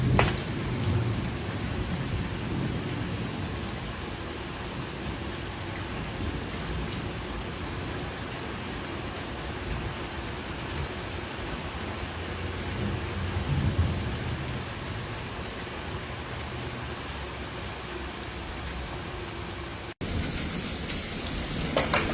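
Heavy rain pours steadily during a severe Dallas–Fort Worth thunderstorm with damaging winds, a dense, unbroken hiss that stays loud throughout, with low thunder rumbling beneath it.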